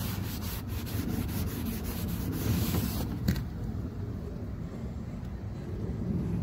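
A cloth rubs and squeaks against a car headlight coated in WD-40 in steady back-and-forth strokes, close up, with a low background rumble throughout.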